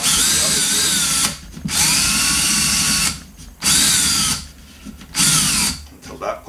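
A power drill with a brad point bit bores through wood, loud and close, running in three or four sustained bursts separated by short pauses, with a whining motor pitch that dips under load.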